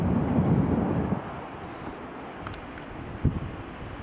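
An EasyJet airliner leaving the runway at Edinburgh Airport gives a distant, steady jet rumble mixed with gusty wind noise on the microphone, fading slightly after the first second.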